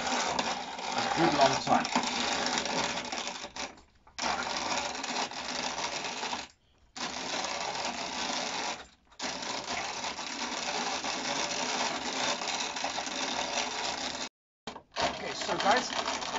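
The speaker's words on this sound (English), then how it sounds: "So we fill up the grain mill, and then we start cranking." A hand-cranked grain mill grinds olives into paste, giving a steady close clatter of grinding and cranking that stops briefly now and then, with a few words spoken.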